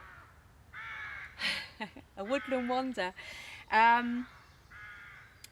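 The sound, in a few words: crows cawing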